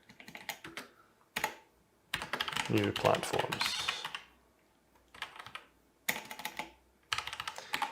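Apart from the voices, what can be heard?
typing on a computer keyboard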